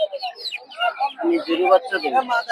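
Native chickens and chicks cluck and chirp busily at a poultry market, many birds calling at once close by in a lively, continuous chatter.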